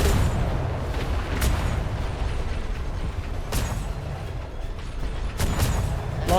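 Ship cannons in a sailing roleplay video game fire in a few sharp, separate booms over a steady, heavy rumble of wind and sea.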